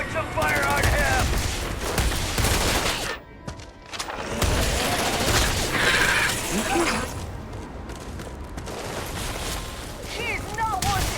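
Video game gunfire in Starfield, with repeated loud bursts and rapid volleys of shots mixed with shouting voices and game sound effects, with a short lull midway.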